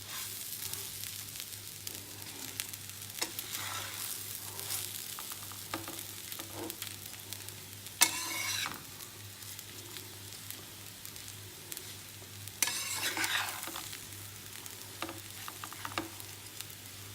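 Biryani ingredients frying and being stirred in a pan for a Calcutta biryani, a steady low sizzle with occasional scraping stir strokes and brief louder bursts, no talking.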